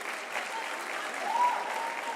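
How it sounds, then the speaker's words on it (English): Applause from a festival opening crowd, a steady patter of clapping lasting the whole short stretch at moderate distance, without a break. "Can we please have a round of applause for Councillor eseza ngaphambili?"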